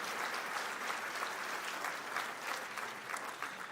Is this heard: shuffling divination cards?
no